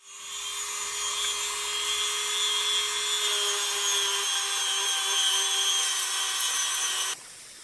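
A rotary tool roughens the polished surface of a slot car wheel hub so tyre glue will grip, a steady high whine running close and loud for about seven seconds before cutting off abruptly.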